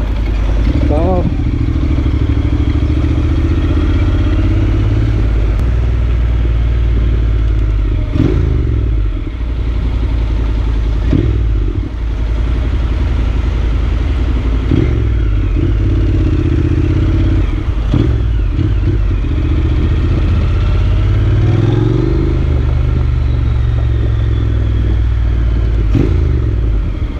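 A motorcycle engine idles steadily nearby with a low, throbbing rumble and a few short revs and clattery knocks, while people talk over it.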